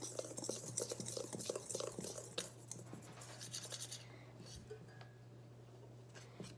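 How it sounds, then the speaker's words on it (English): Whisk scraping and clattering through brownie batter in a bowl, close and busy for several seconds, then tapering off into quieter handling noises. "Again, whisk."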